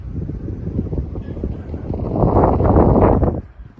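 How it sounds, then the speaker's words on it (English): Strong wind roars and buffets the microphone high up at Burg Lichtenberg castle near Kusel, Germany, swelling louder toward the end before dropping off. "It's very windy."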